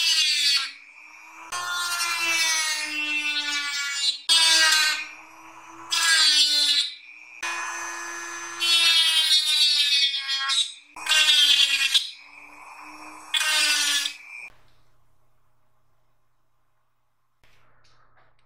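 A Dremel rotary tool cutting the plastic of an Atari 7800 cartridge port, whining in several loud bursts of a few seconds each with short pauses between, then falling silent.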